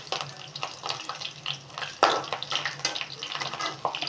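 Garlic sizzles in oil with black cumin and regular cumin, a close, crackling, spattering fry with bursts and pops over a quiet background.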